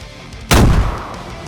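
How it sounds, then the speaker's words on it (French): A single loud, close grenade explosion in the video game DayZ, a sharp booming blast that bursts suddenly and rolls off into a rumbling decay over about a second, with no talk over it. "il essaie de me grenade, il essaie de me grenade"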